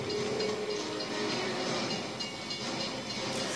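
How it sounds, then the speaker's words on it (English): A train rushes past in the video game Gears of War 3, a loud, steady rumbling roar with hissing and rattling that fills the whole moment without speech. "There's a train coming! Everybody off the tracks!"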